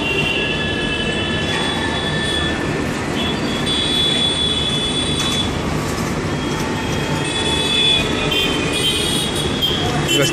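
A train rumbles at New Delhi railway station, heard from a second-floor vantage: steady rolling rail noise with thin wheel squeals and a busy station wash, and faint speech somewhere in the mix.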